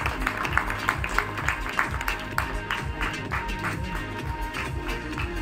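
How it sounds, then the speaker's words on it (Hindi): A live audience applauds for actress Pallavi Joshi at a film event, a steady wash of many hands clapping with rhythmic accented claps over a thumping music beat, sustained for several seconds. "Give it up for Pallavi Joshi, ladies and gentleman. जोरदार तालियां बनती."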